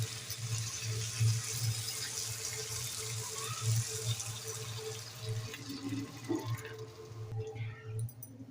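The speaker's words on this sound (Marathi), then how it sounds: "आता थोडं पाणी घालूया।" Water poured into a pan of crab fry cooking on a gas stove, a faint trickling splash over a low steady hum, ending with a brief clatter near the end.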